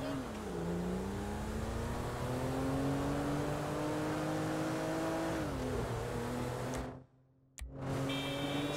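A car driving in Grand Theft Auto V, a steady engine drone whose pitch rises and dips slightly, broken by a brief drop-out before resuming, with game character voices talking over it.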